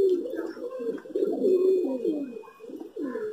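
A pigeon lured down to grain near a net trap coos in low, throaty, rolling phrases, close and fairly loud, repeating several times over a few seconds with no talking over it.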